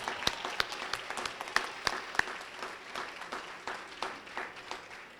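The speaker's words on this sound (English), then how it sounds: "Let's give all of our students who were recognized this morning another big round of applause." A school audience applauds students at a morning recognition event, with distinct sharp claps standing out from softer, steady clapping at moderate distance.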